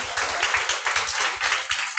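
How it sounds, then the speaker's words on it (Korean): A room of attendees at a business group meeting claps steadily together, a dense wash of overlapping hand claps with a loose rhythmic pulse, fairly loud and close, with no one speaking over it. "우리 이영미 사장님 다시 한번 큰 박수 드리겠습니다."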